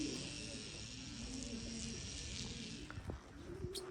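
Racing pigeons coo softly inside a loft, low throaty calls set against a steady background hum, with a few faint clicks and rustles near the end.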